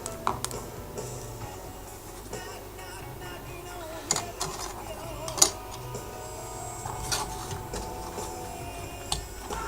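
A screwdriver drives screws into a DeLorean replica's interior cabin build, giving faint irregular clicks and small ratcheting scrapes with occasional sharper knocks, close and quiet, with no talking.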